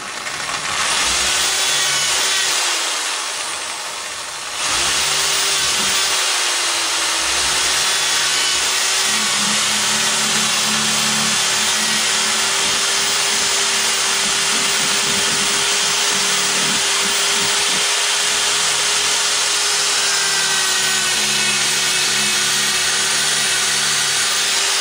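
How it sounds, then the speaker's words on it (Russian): A 6 mm drill-mill bit bores into a pine wood block, giving a continuous high-pitched drilling whine with a brief dip near the start, close and steady throughout with no speech. "Вот сейчас я продемонстрирую на более тонком, 6-миллиметровом, как оно справляется с деревом."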